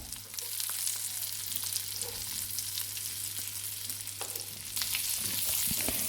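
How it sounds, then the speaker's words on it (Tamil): Boiled eggs frying in a spice masala in a pan, giving a continuous soft sizzle with scattered light crackles and a low steady hum underneath, without any talking. "முட்டையை 2 சைடும் நல்லா மசாலா கோட் ஆகிற மாதிரி ஃப்ரை பண்ணிக்கலாம்"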